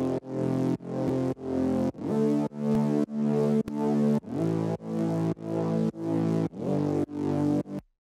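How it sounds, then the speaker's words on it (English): A stereo bass synth pulses in a steady rhythm of about a dozen loud, evenly spaced notes, each swelling back in after a brief duck, ending with a short drop-off and no talking. "On top of that, we have this stereo bass,"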